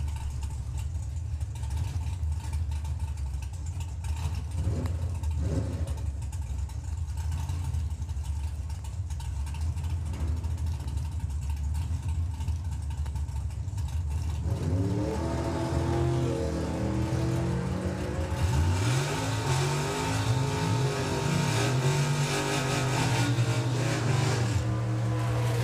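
A Chevy Nova and a Toyota Corolla at the Santa Pod Raceway drag strip, heard as a steady engine rumble with idling that builds into rising, revving engine tones in the second half, with wind and crowd noise around them.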